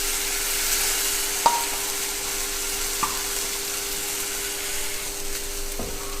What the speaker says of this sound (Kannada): ಸ್ವಲ್ಪ ಲೋ ಫ್ಲೇಮ್ನಲ್ಲಿ ಇಟ್ಕೊಂಡು ತೆಂಗಿನಕಾಯಿನ ಹುರ್ಕೊಳ್ಳೋಣ.